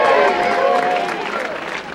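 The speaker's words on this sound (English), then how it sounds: "A big cheer for Dick!" A studio audience cheers and applauds for Dick at a small-town wood-burning event, a dense, steady wash of clapping and voices that holds loud before tapering slightly toward the end.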